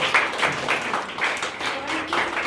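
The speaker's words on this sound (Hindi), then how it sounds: "दिव्या अशोक के लिए एक बार जोरदार ताली।" Students at a school results ceremony clap for the first-ranked pupil in a series of rhythmic bursts of applause that pulse at a steady, even beat.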